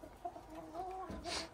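Hens cluck softly inside a backyard coop near the nest box, a few short, close calls over a quiet background.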